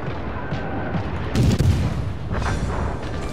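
Naval guns fire in the World of Warships video game, a deep booming salvo with a short rumbling burst, then a second softer round of blasts over steady low background noise.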